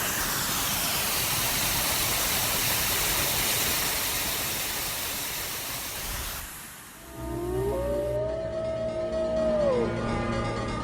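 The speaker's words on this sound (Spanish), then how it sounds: "Así suena Silver Fallet, la cascada plateada" Silver Fallet, a waterfall in a Swedish forest, roars as a loud, steady broadband rush for several seconds, then gives way to a quieter passage with tonal, whale-like sounds.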